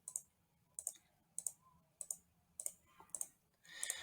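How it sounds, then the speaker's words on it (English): A computer mouse clicks while a shape is traced with a path tool in design software, giving sharp, close, isolated clicks at roughly half-second intervals, quiet and without talk, ending in a short rustle. "with the path tool, all I'm doing, as you can see, is clicking through"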